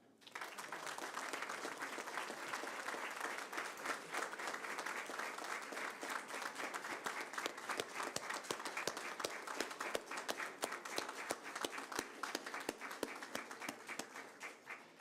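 A room of people applauds Brazilian justice minister Celso de Mello at a formal ceremony, sustained clapping rising after a quiet start and holding evenly for about fifteen seconds, sounding somewhat distant.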